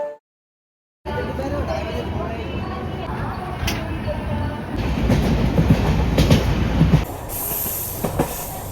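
A late-running train pulls into Delhi Junction station at night, rumbling loud and steady with rolling wheel noise and faint squeals after a brief silent start.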